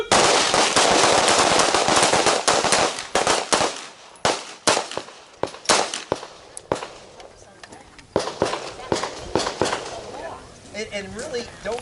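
Several handguns fire during a combative shooting drill on a range. Sharp, loud reports come first in rapid overlapping strings and then as spaced single shots. A voice speaks briefly near the end.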